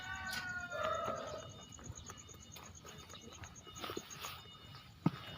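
Chickens cluck and call faintly in an outdoor yard, scattered calls over quiet background noise with a sharp knock near the end.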